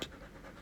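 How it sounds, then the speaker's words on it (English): A very large golden doodle dog pants quietly nearby after being outside, a soft, brief, breathy rhythmic huffing. "and it has been outside and it is panting."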